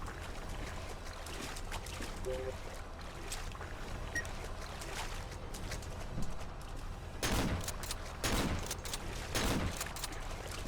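Three sharp gunshots from the horror video game Cry of Fear ring out about a second apart over a steady, rumbling game ambience, loud and close.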